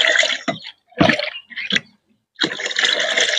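Homemade liquid neem-based pesticide poured into a container already holding water, a close splashing pour in several bursts with brief pauses, no talking.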